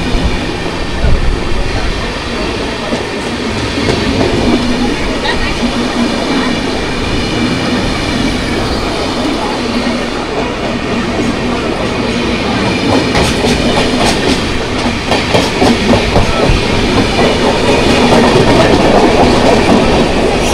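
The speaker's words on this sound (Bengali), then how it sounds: "সামনে থেকে আসে সিএসএমটি গামী সিএসএমটি এক্সপ্রেস" CSMT Express train running past on the tracks, loud continuous rumble with rhythmic wheel clatter and rail noise, close by and building toward the end.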